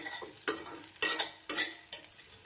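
Chopped green chillies with ginger-garlic paste sautéing in a pan for a cauliflower curry, with a spoon scraping and stirring in repeated close strokes over a soft sizzle, and no one talking.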